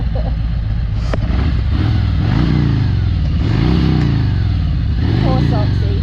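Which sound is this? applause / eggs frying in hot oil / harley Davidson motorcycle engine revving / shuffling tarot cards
harley Davidson motorcycle engine revving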